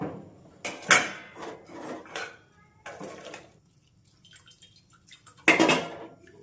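Cooked onion and cashews being strained in a home kitchen: several short bursts of metal pot and utensil clatter with a little splashing water, separated by quieter pauses and a final sharp clank near the end.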